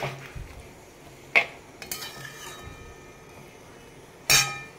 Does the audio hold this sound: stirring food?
yes